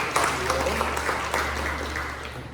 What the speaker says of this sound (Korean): 우리 박수로 우리 한번 생일을 축하하겠습니다